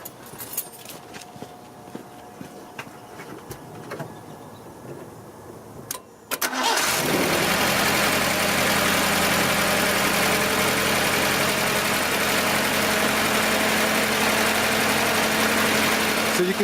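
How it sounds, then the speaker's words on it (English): A 1977 Datsun 620 pickup with an L20B engine, Weber carburetor and plasma ignition sits quietly, then cranks briefly and catches at once, settling into a loud, steady idle that continues close by. "So we're going to start it up and let's see how easy it starts."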